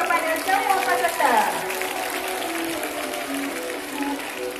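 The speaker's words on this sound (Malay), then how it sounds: "berikan tepuk tangan yang meriah kepada semua peserta" A school audience at an independence day celebration applauds the participants, with steady clapping mixed under loud crowd voices and shouting.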